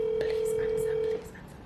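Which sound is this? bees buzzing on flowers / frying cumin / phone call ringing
phone call ringing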